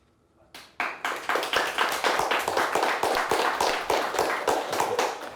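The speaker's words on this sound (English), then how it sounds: "Let's give them a nice round of applause." Sparse applause from a small high school quiz show audience, beginning after a short pause and continuing as loud, evenly spaced individual claps from a few people close by.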